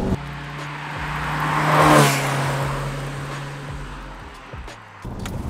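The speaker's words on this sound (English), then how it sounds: "The Golf GTI engine was definitely the best decision for this van." A VW T25 van fitted with a swapped 113 hp Golf GTI petrol engine drives along, a smooth steady engine hum swelling briefly before settling, with a whooshing pass near the middle.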